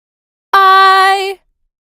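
A single sustained sung vowel, clean and dry, holding one steady pitch for under a second before cutting off, with silence around it.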